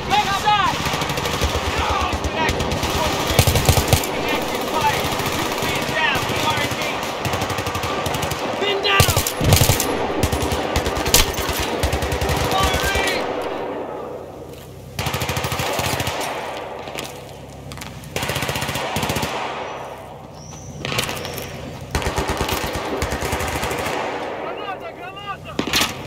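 Sustained, loud automatic gunfire in a Battlefield 3 campaign ambush, rapid bursts rattling almost continuously with brief lulls and sharper blasts, voices shouting beneath the barrage.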